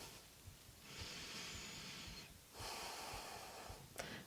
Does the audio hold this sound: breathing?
yes